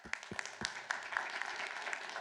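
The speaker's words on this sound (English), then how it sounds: "Clap, please." An audience applauds at the end of a technical talk on quantum computing, a short burst of clapping that starts with a few separate claps and quickly builds into steady moderate applause.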